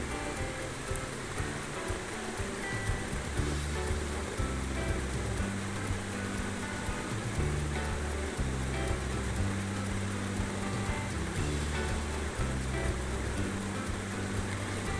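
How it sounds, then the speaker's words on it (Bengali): Fried potato pieces sizzle and crackle steadily as they are stir-fried with spice paste for a fish roe curry, a dense, even frying hiss with faint stirring scrapes throughout. "তো আলুটাকে ভালোভাবে মশলার সঙ্গে মিশিয়ে নিয়ে বেশ কিছুক্ষণ কষিয়ে নিতে হবে"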